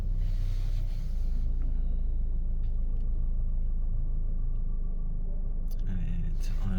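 An Opel Insignia 1.6 CDTI diesel engine runs at a steady, close low rumble throughout, with a few faint clicks over the idle.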